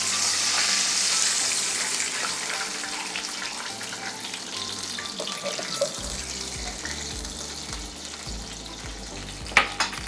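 Water hits a hot pan of cooked garlic with a bright, loud sizzle that gradually settles into a softer bubbling hiss, with a clatter near the end.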